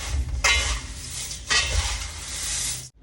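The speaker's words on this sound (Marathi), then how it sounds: "तर ह्या एक वाटीत हे एक वाटी डाळ मिक्स करून घेऊया आपण" A bowl of dal being mixed with puffed rice and jaggery in a kitchen: close scraping and stirring swishes in two short bursts against the bowl, with faint clinks and no talk.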